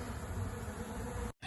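A dense, steady buzz of honeybees fanning at the entrance of a swarm box, loud and close, continuous until it cuts off abruptly near the end.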